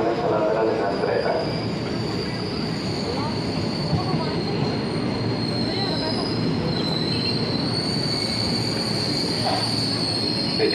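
A commuter train pulls into Tanah Abang station with a loud, sustained high-pitched wheel squeal over a dense rumble of rolling stock, steady and close for the full length, with platform announcements and crowd voices faintly underneath.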